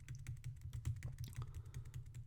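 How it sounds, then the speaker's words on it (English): Computer keys are mashed rapidly during a game, a quick, irregular stream of soft clicks and taps close to the microphone over a low hum, with no talking. "You can probably hear me just like mashing my keys in the microphone."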